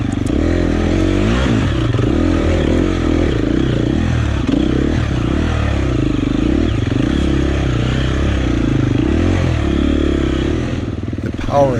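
A four-stroke dirt bike rides single track, its engine revving up and down in a loud, continuous drone with clattering from the terrain. A voice talks over it.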